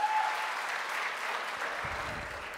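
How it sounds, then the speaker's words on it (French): Steady applause from the audience at a school debate final fills the hall, a soft, even wash of clapping heard from a distance with no voice over it. "ils méritent vos applaudissements, messieurs, dames"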